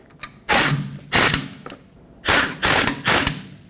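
Ratchet wrench snugging the rear brake caliper bolts on a 2011-2016 Ford F-350, five loud bursts of rapid clicking separated by short pauses, close up with no talking.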